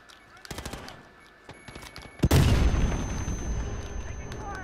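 Automatic gunfire in Call of Duty: Modern Warfare during a 2v2 match: sparse shots and faint talk early on, then a sudden loud sustained burst of rapid fire with booming impacts dominating the rest.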